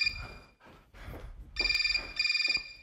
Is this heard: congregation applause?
no